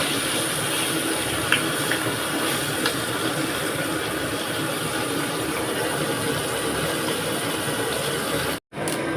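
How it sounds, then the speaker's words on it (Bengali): Fish frying in mustard oil in a kadai gives a steady, dense sizzle that runs unbroken and fairly close throughout, with a brief cut near the end. "এখন আমরা কড়াই মাছটি ভেজে নিচ্ছি।"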